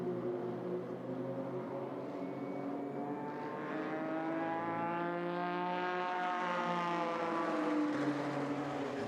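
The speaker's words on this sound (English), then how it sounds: "Into the final corner. And across the line for the 89 Toyota." The No. 89 Toyota GT race car crosses the finish line during SRO GT Cup qualifying at Zhuhai. Its engine drones steadily from some distance, the pitch sweeping and shifting as the car passes.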